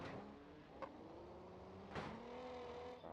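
Engine of a Mini Mania car in a racing video game, a steady low hum with sustained tonal drone and two brief sharper bursts, fairly faint and with no talking over it.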